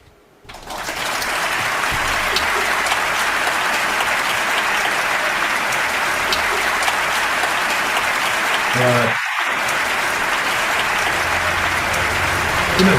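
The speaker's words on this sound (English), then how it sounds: "That is applause only." Loud, sustained applause fills the whole stretch as a dense, even wash of clapping, with a brief dip and a low thump near the end before it carries on.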